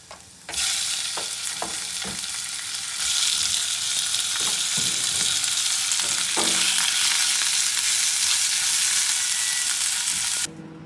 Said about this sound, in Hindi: अब इसमें चिकन डाल देंगे।